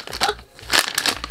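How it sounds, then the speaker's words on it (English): A plastic packaging bag holding a bath salt product crinkles and rustles in short, close bursts, loud and crisp, with brief pauses between handlings. "it comes in this plastic bag"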